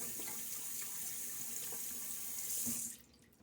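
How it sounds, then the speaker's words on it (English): A tap runs steadily into a bathroom sink while a shaving brush is rinsed, a loud continuous hiss of water that cuts off abruptly near the end. "as I shake out my brush in the sink"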